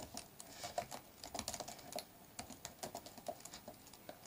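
Quick, light key clicks from a computer keyboard as a command is typed in, an uneven run of crisp taps close by against a quiet room, with no voices.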